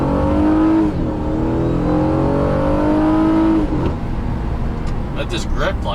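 A 2014 Honda Accord V6 with a Ktuned setup launches hard in sport mode from a brake-torque start, its engine rising loudly through a strong rev climb, then a shift, then fading into road noise while someone speaks over it.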